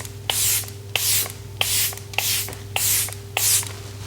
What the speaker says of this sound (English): I'm going to do a little bit of misting with my enormous bottle of the airbrush